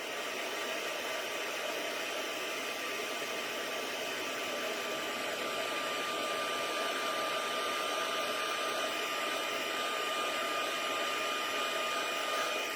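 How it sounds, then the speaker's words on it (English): Heat embossing tool blowing hot air, a steady close whooshing hiss with a faint motor whine that runs unbroken and alone for the whole stretch, in a home craft setting. "So now my heat tool is nice and hot."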